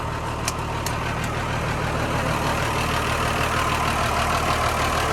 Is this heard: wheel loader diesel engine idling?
yes